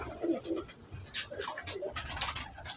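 A pigeon, a female from a prized loft, gives soft low coos in a couple of short bursts near the start, followed by scattered rustles, light knocks and brief chirps, fairly quiet overall.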